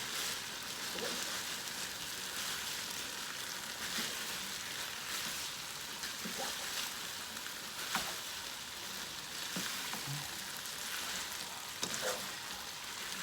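Bean sprouts stir-fried in a hot pan give a steady, dense sizzle with soft crackle throughout, broken by occasional light clicks and scrapes of stirring, close and moderately loud with no talking.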